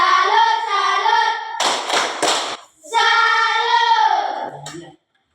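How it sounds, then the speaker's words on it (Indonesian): Pupils perform the rhythmic 'tepuk salut' classroom clap: a quick burst of three sharp hand claps falls between stretches of loud, sustained group chanting that then trails off. "Tepuk salut untuk diri sendiri."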